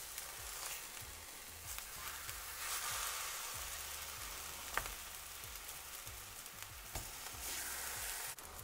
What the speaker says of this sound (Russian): Баклажаны подрумянились с одной стороны, переворачиваю их на другую.